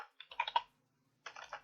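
Two short bursts of typing on a computer keyboard while filling in a web form field, quick clustered key clicks with a gap of silence between them, close and clear.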